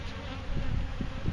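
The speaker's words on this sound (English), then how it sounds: "There's a bee fight." Honey bees fighting at an exposed hive during a honey bee removal in Wellington, Florida, a dense, close buzzing drone that swells slightly, with no talk.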